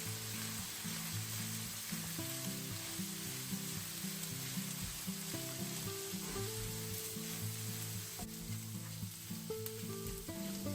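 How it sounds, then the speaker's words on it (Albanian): Vermicelli soup pasta frying and being stirred in a pan gives a steady, even sizzle throughout, with a layer of tonal background music running underneath. "Dhe tashmë do t'i hedhim 200 gram sheherie ose ndryshe makarona supe. Do t'i përzijem."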